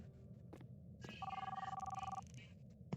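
A telephone rings in the Roblox horror game Midnight Movies, a single burst of rapid electronic bell trills lasting about a second over low background game noise.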